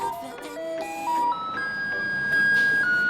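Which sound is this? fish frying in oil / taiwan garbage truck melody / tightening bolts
taiwan garbage truck melody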